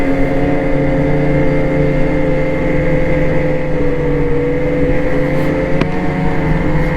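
A 2023 Ski-Doo Renegade Adrenaline snowmobile engine drones steadily while riding through pole lines in Maine, close and loud with a low, even hum that holds throughout.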